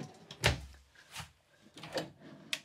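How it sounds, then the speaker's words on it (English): A pull-out drawer in the bedroom of a 2024 Heartland Cyclone fifth wheel toy hauler slides and knocks, giving several close, quiet thumps and rattles spaced over a couple of seconds. "Pull out drawer underneath here."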